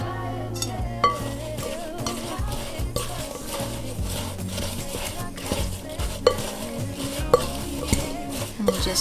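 Apple pie filling ingredients, sugar among them, are stirred in a bowl with a utensil. The scraping and clinking is continuous, close and rhythmic, with a few sharper knocks.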